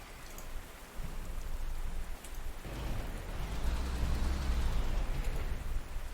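Rain in the war strategy video game PzC2, a steady hiss of falling rain that grows denser and louder partway through, with a soft low rumble underneath and no voices.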